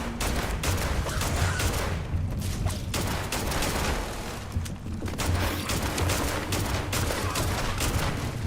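Sustained gunfire in a video game, a dense, continuous stream of rapid shots at steady loudness with no pauses.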